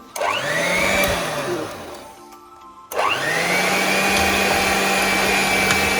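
An electric mixer beats sugar into orange cake batter, its motor whining up to speed, cutting off briefly, then revving again to a steady, louder high-pitched drone close by.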